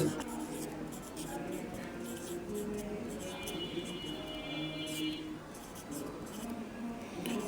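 A pen or marker scratches across a writing surface in short, irregular strokes, close and quiet, while a voice talks softly in the background.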